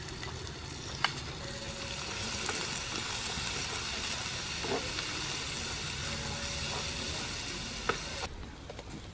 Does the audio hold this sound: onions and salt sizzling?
yes